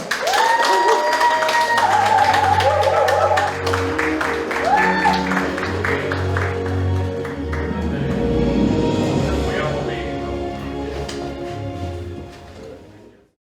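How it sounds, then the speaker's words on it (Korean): Audience cheering and applause welcoming novelist Eun Mi-hee at a book concert in Gwangju, a loud sustained wash of clapping with music playing underneath, fading out at the end. "은미 작가가 나오실 때 여러분 환호와 함께 박수로 맞아주시길 바랍니다"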